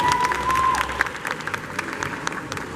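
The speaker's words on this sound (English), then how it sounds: "A round of applause for Stephen," Applause from an audience at a fashion show, a steady wash of clapping with faint cheering under a sustained tone, continuing evenly throughout.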